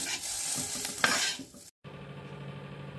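Raw jackfruit pieces fry in oil in a pan, a steady close sizzle with scraping stirs and the clink of a utensil against metal, a brief cut near the end, then a quieter, even frying hiss.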